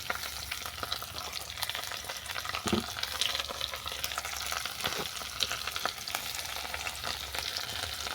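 Vegetables with chopped tomato and turmeric fry in a pan, a steady close sizzle broken by occasional scraping stirs.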